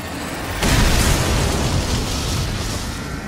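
A planted bomb going off in Dishonored, one loud, close blast that bursts suddenly after a brief quiet and rolls on as a broad, sustained roar.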